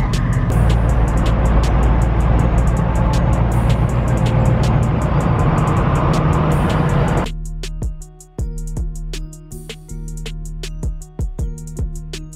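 A car drives along a road on a trip toward Dallas, Texas, with a loud, steady rumble of road and engine noise that drops abruptly to a quieter cabin hum with scattered clicks partway through.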